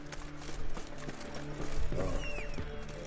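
Horse hooves clip-clop at a steady walking rhythm in The Witcher 3, layered over game music and ambient sound, with a brief whinny-like swoop near the end.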